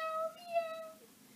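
A short, clear, high kitten meow with a falling tone, close and moderately loud, then quiet.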